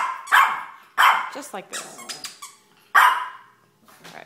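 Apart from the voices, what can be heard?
dog barking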